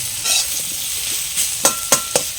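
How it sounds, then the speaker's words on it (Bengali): Pumpkin frying in a pan while being pressed down, village-style: a continuous close sizzle with several sharp scraping presses toward the end, each a short bright burst. "এভাবে চাপা দিয়ে দিয়ে ভেজে নিলে তো ভাজাও হবে, সেই সঙ্গে সেদ্ধও হয়ে যাবে।"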